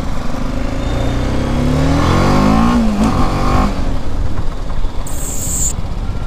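An adventure motorcycle accelerates smoothly through the low revs, a steady engine drone with a rising, sweeping tone in the middle, heard close and loud.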